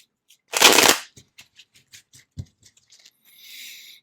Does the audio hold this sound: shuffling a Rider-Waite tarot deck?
yes